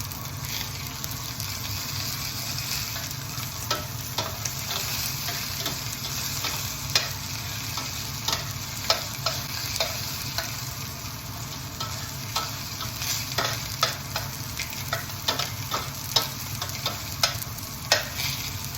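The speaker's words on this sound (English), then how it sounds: "you move those onions move those onions around a little bit in the pan over time and just watch those things brown" Seasoned onions with salt and pepper sizzle steadily in a pan, with scattered scraping and clacking taps as they are stirred around, close and continuous with no voices.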